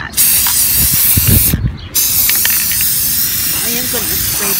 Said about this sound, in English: I am going to spray the inside